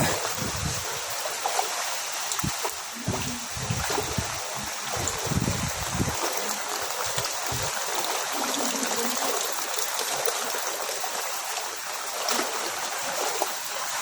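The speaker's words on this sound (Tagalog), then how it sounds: "Ito po yung ilog." River water rushing steadily during a typhoon in Burdeos, Quezon, a broad continuous flow that stays fairly constant throughout, with occasional low thumps and no talk.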